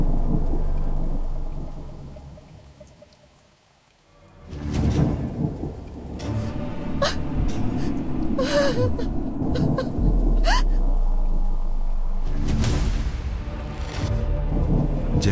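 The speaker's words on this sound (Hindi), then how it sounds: "बाहर तूफान तेज होता जा रहा है।" Rolling thunder booms and rumbles over steady rain, with loud cracks and crashes near the end of the storm.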